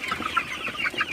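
Golden super hybrid chickens cluck softly at night in a farm shed, a run of short, close bird calls repeating steadily with no talk.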